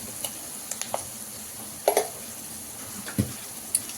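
Curry leaves and turmeric frying in a pan for mango rice, a low crackling sizzle punctuated by sharp ticks and a few clinks of a spoon against the pan, with no talk.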